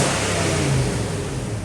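A V8 hot rod with its stock exhaust revs close by, a loud, steady, mild-toned engine roar with low harmonic bands that swell and ease slightly over the short stretch, with no talking.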